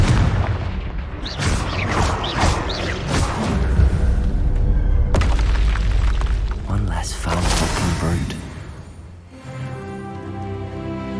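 Loud booming blasts from the Confringo spell in Hogwarts Legacy, a dense run of explosions and rumbling that fills the clip, with a voice shouting between them.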